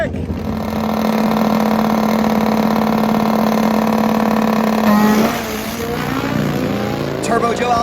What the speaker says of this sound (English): Side-by-side burnouts, that's what it's all about.